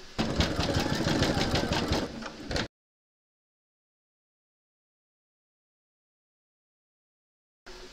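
Embroidery machine stitching a gingerbread house design, a dense fast mechanical rattle running steadily for under three seconds, then cutting to silence, with a brief return of sound at the very end.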